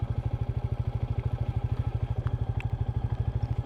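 A Royal Enfield Meteor 350 motorcycle thumps along in second gear on a rough off-road track, with a fast, even single-cylinder engine beat close up and a faint rattle over it.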